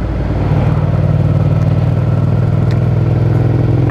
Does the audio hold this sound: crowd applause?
no